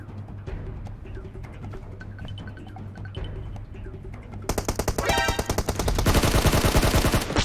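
Scattered sparse shots give way to a loud burst of rapid automatic gunfire, sustained and close, in a PUBG Mobile game soundscape.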